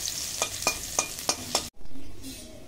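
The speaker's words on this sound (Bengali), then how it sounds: "কড়াইয়ে দিয়ে দিচ্ছি সর্ষের তেল, তেলে দিয়ে দিচ্ছি শুকনো লঙ্কা, রসুন ফোড়ন।" Dry chillies and garlic fry in mustard oil in a wok, a close sizzle broken by five regular scraping stirs, then a short silence before the frying resumes with a softer hiss.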